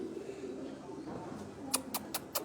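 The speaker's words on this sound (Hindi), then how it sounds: "उस्ताद रियाज भट्ट साहब की छत का परवाजी कबूतर है।" Pigeons on a rooftop loft in Gujranwala, with soft cooing under low background murmur and a few sharp wing-flap or clap bursts near the end.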